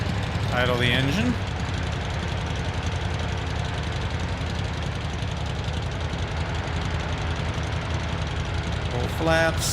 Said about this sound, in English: Idle the engine.